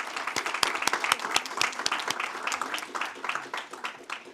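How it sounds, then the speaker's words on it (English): Steady applause at a Maryland State Board of Education meeting, dense overlapping claps filling the space without pause. "let's give her a round of applause as well"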